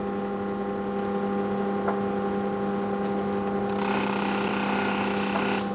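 A sander running steadily while cutting opal, a constant motor hum with strong tonal lines, growing into a louder broadband grinding hiss partway through as the stone meets the wheel.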